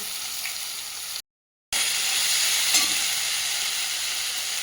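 Ginger garlic paste frying in a pan for a meat curry: a bright, continuous hiss of hot oil, broken by a brief gap of silence, then resuming at steady strength.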